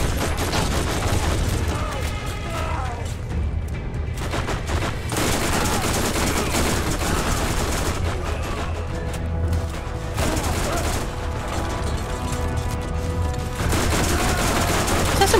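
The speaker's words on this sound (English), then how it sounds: "pull out the assault rifle" Sustained automatic assault rifle fire in the shooter game Borderlands, loud and continuous bursts with booming impacts layered over dense combat noise, with brief lulls and no one talking.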